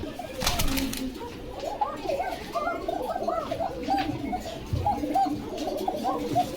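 Pigeons coo repeatedly at a pigeon market in Bogura, soft overlapping calls, with occasional wing flaps and faint background chatter.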